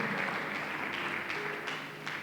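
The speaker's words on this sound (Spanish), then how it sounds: "Dale un aplauso al Señor" A church congregation applauds during a Spanish-language sermon, a steady, fairly faint wash of clapping that holds for a couple of seconds without voices.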